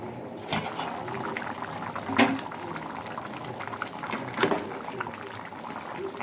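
Country chicken curry made with tomato bubbles steadily in a pot, a soft continuous simmer with occasional louder pops and gurgles, close up with no talking.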